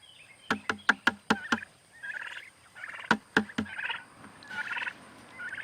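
A rapid series of sharp clicking knocks repeats twice over a background of gobbling and clucking turkeys, close by.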